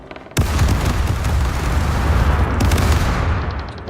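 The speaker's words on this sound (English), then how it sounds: "Ready to fire! They're loading up bombs again." A broadside of ship cannons in the naval video game Caribbean Legend erupts with a sudden loud boom, then a sustained roll of overlapping blasts and rumbling, with a second volley striking partway through, close and powerful with no talking.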